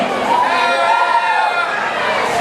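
Comedy club audience cheering and whooping in a sustained roar, loud and close, with shouting voices blended into the crowd noise.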